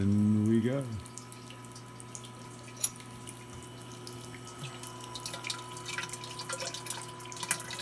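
Water from the valve on a sparge setup pours through a dispersion cone during beer brewing on a three-level brewing cart, a steady soft trickle that continues after a brief voice at the start.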